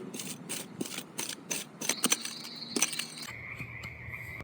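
Minelab SDC 2300 and Garrett Axiom metal detectors signalling over a round, chunky gold nugget buried in the ground, giving rapid clicking, chattering pulses, then sustained electronic tones, close and clear.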